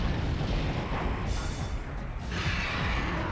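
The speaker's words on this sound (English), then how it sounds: "Explosions that can be heard in space for some reason." Booming, rumbling explosions in the space setting of the video game Metroid Prime fill the whole stretch with dense, noisy blasts and loud, continuous low roar.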